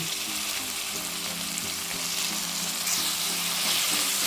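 Chopped tomato fries in a pan for a bottle gourd palya curry, giving a steady close sizzle with faint rhythmic scraping of stirring underneath.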